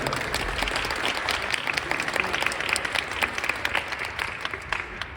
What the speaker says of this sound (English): let's do an applause to H&M